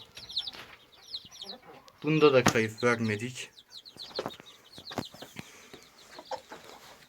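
A hen with her newly hatched chicks makes a burst of loud clucking close by, while high chick peeps chirp on and off around it; someone speaks Turkish quietly in the background.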